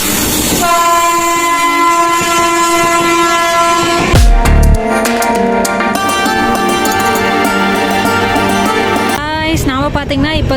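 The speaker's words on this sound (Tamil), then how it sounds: "ஏதோ ட்ரெயின் வந்துட்டுருக்கு போலங்க. அதுக்காக வந்துட்டு ட்ரெயின் கிராசிங்காக வெயிட் பண்ணிகிட்ருக்கோம்." Near a level crossing close to Tumkur, a passing train blares a long, loud horn, then a second horn blast with rumbling wagons and clattering wheels, ending in rising screeches.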